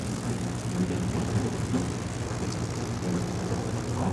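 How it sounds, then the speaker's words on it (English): Twin engines of a Mosquito Mk VI start up in the IL-2 combat flight game, a steady low propeller-engine drone at moderate level with no voices. "We'll wait for both engines to start."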